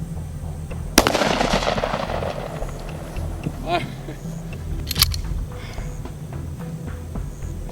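A single loud blast from a Serbu Super Shorty short-barreled shotgun fired at a 50-foot target, a sharp report with a ringing tail, followed by a faint second bang and mechanical handling sounds.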